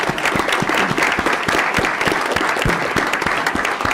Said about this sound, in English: I think we should be giving Mr. Rob Davies a round of applause